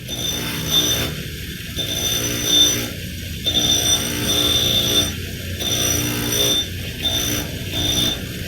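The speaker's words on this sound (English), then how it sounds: "I found that this small diameter wire wheel worked best." Small diameter wire wheel on a power tool brushing copper in a blacksmith shop, a loud continuous motor whine with rough grinding surges as the workpiece is pressed against the wheel at regular intervals.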